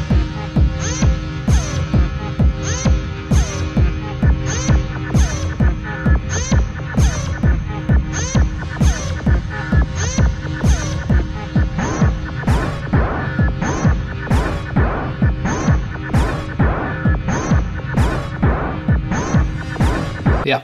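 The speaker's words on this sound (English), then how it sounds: "the kick right here is definitely the right one for this kind of techno" A techno track plays loudly, a steady four-on-the-floor kick drum pounding under a deep bass line and a regular bright percussive hit, continuous for about twenty seconds with no talk.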